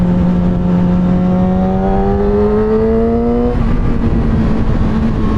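A 2007 Yamaha R6 sport motorcycle, its exhaust due for replacement, revs steadily upward in a loud, close engine whine that rises in pitch for several seconds, then settles back to a steady drone.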